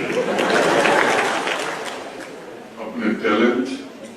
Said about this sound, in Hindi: तो ये समाधान में ताली बहुत जोर से बज रही है